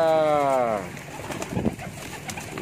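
An olive-coloured female pigeon coos while being held by hand, one clear throaty coo at the start, then quiet rustling and handling noises.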